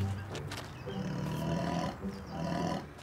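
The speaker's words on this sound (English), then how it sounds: "Cute little lion cubs." Lion cubs at a dinosaur-themed ranch in snow, a few low rumbling roars and growls close by, rising and falling in short bursts without talk.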